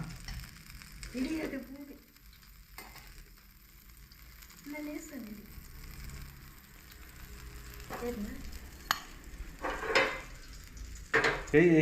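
Fish pieces frying in hot oil in a pan give a soft, low sizzle, broken by a few clinks and stirring sounds as pieces are added, while a person talks throughout.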